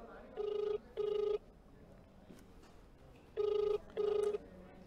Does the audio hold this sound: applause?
no